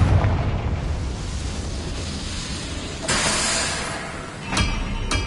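A Confringo fire-blast spell explodes in Hogwarts Legacy, a loud rumbling burst followed by a sharp crackling blast near the end, with no talk over it.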